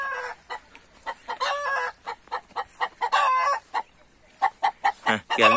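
Chickens cluck in short, repeated bursts close by in a backyard coop area, with a few longer drawn-out calls among the choppy clucks and no talk.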